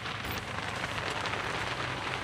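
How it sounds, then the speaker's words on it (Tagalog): Heavy rain pours onto a vehicle, a dense, constant hiss and patter close up, steady and loud with no pauses across the short stretch. "Di pa natila yung ulan, malakas pa rin."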